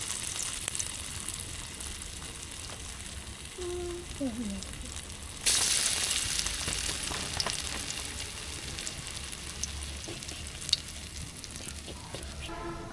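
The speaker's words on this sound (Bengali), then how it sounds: "এইভাবে আমি সব পাকোড়াগুলো ভেজে নেব" Banana flower and mushroom pakoras deep-fry in hot oil, giving a steady crackling sizzle that swells suddenly louder partway through as more batter goes in, with faint background sounds and little speech.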